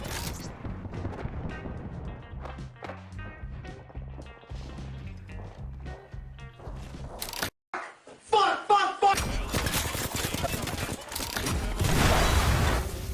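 Fuse grenades going off in the video game Apex Legends, a rapid cluster of loud booms and blasts mixed with gunfire and game noise, following quieter in-game action.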